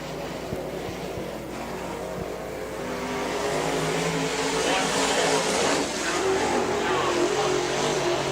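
A dirt-track race car roars past on a qualifying lap at a speedway, growing louder as it nears and then holding steady, with a public address voice faintly underneath.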